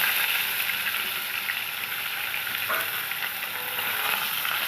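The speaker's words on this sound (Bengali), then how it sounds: "একটু ভালো করে মাছগুলো ভেজে নিতে হবে" Bhola fish frying in hot mustard oil, a loud, steady crackling sizzle with dense spattering that holds constant throughout, close up and with no talking.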